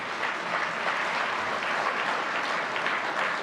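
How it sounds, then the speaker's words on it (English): An audience at an annual general meeting applauds in a steady, dense wash of clapping that holds evenly throughout without pause. "Give them a round of applause, please."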